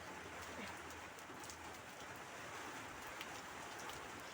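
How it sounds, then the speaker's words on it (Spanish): Steady rain falls in a soft, even hiss that stays faint and constant throughout, with a few scattered drop sounds and no clear voices. "me voy a bañar en la lluvia mismo, ¿no?"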